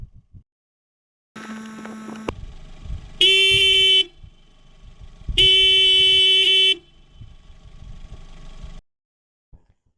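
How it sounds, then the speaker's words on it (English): An original factory car horn toots alone in three loud, steady bursts of about one to one and a half seconds each, separated by short gaps, with a fainter lingering hum between them. "First up, I'm gonna be tooting my original horn that came with the car"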